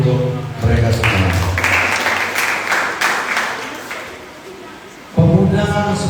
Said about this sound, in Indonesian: Tepuk tangan dulu untuk mereka semua